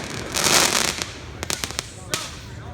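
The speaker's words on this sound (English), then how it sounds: "I'm seeing fireworks." Loud fireworks exploding at close range with a rushing crackling burst followed by several sharp bangs, as a person reacts excitedly nearby.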